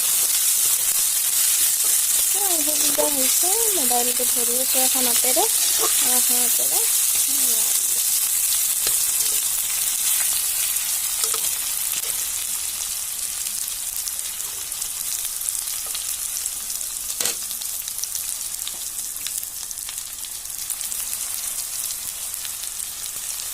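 Ginger sizzles steadily in a pan, a constant bright hiss for the whole stretch, with a brief spoken remark early on and an occasional stir or clink.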